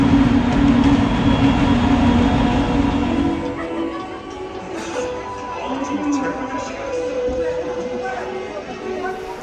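Rumbling passenger train noise at a station, on a rail journey from Mongolia to China, with a low engine hum that eases off, followed by a busy platform ambience of scattered voices and clatter.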